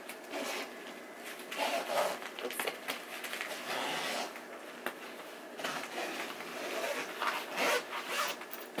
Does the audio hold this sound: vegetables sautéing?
no